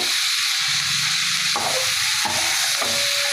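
Steady sizzling of onions and dried chillies frying in a hot pan, a loud continuous hiss with a few sharp crackles as ingredients hit the oil.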